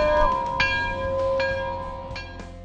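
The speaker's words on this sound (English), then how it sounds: "Somebody ring the bell!" A bell rings out repeatedly, with bright metallic strikes roughly every second, each ringing tone lingering and overlapping the next, fairly close and clear.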